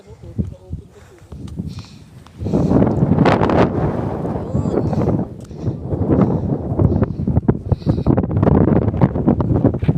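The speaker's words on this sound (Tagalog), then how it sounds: "Ang lakas ng hangin." Strong wind buffets the microphone outdoors near a cliff edge, a loud rushing roar that swells after a couple of seconds and persists while people talk over it.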